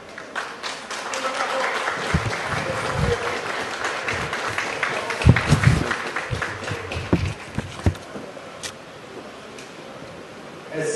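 Audience applause at a Haitian public address marking the start of the school year, a dense steady patter of many hands with scattered louder claps, fairly close, fading slightly toward the end.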